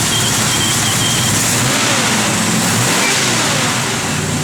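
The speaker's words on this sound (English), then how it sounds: "The car's got great sound to it. Wait, give it a little rev, Jordan." A 1970 Plymouth Cuda's engine revs loudly up close, a deep, rumbling roar that swells and holds with no talking over it.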